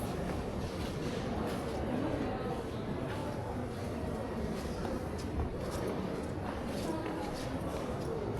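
A train arrives at a station on an old Japanese rail line opened in 1902, a dense steady rumble and rattle of wheels close by, with faint voices under the noise.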